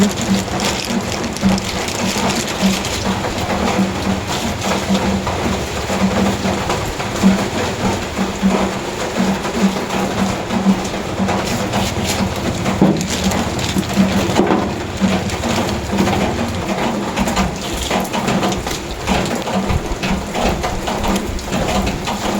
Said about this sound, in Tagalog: malakas pong ulan